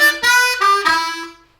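A blues harmonica plays a short lick of bright, reedy tongue-blocked octave notes, three or four tones in quick succession, close and loud, fading out at the end.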